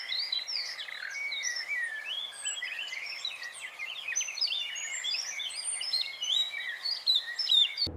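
Small birds chirp and tweet in a lively, continuous chorus of high, quick calls in an animated forest rescue scene, with no talking over them.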